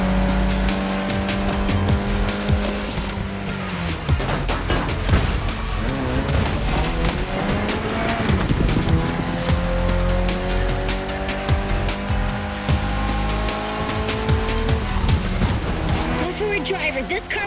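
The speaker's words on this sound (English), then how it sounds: "The Evo X, or previously known as Concept X and Prototype X, is the final form of the Lancer Evolution series." A Mitsubishi Lancer Evo X in the racing game The Crew Motorfest, its engine revving up and down through gear changes with tire squeal, loud and continuous, while a voice talks over it.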